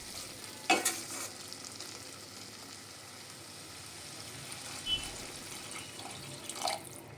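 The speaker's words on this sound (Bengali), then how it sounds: "এবার আমি এর মধ্যে দিয়ে দেব জল।" Water poured into a pan of browned, fried chicken for chicken Maggi, with a sharp splash and sizzle, then quiet simmering and a few scrapes of stirring, close and alone without talk.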